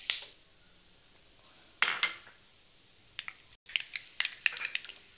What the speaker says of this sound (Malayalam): ഇതിലേക്ക് കടുക് പൊട്ടിയിട്ടുണ്ട്